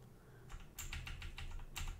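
Keys clatter on a computer keyboard, with quiet scattered presses followed by a quick burst of several crisp keystrokes at close range and no talking.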